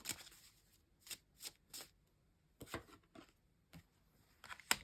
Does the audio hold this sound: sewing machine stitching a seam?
no